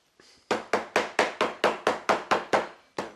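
A hammer flattens thread down into a groove on a mammoth dagger, striking about ten sharp, evenly spaced blows in quick succession, loud and close, with a brief pause before the last strike.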